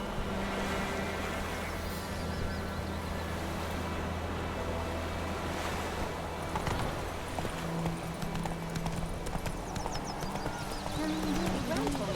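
Roach the horse's hooves clip-clop steadily in The Witcher 3 game, mixed into a busy soundscape with speech and other game sounds throughout.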